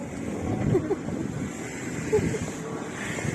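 Wind buffets the microphone in low, gusty rumbles, with faint background murmuring underneath.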